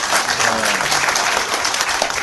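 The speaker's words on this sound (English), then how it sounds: "every time you guys are applauding" An audience at a Texas Sunset Commission hearing claps in a short, dense burst of applause, steady and close throughout its couple of seconds.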